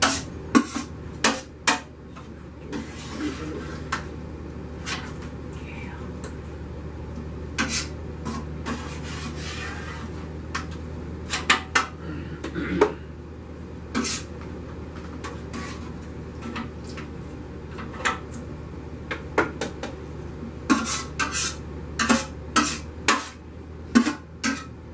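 A big spoon scrapes and knocks around a pot of thick homemade apple butter, giving a steady close rubbing texture broken by repeated sharp clacks against the pot's sides.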